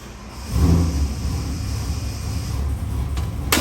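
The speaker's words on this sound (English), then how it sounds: "We're gonna fire it up and give you a run demo." A 427 cubic inch stock-block small-block Ford stroker V8 crate engine, a 535 horsepower build, fires up on a dyno and settles into a steady, loud, rumbling idle.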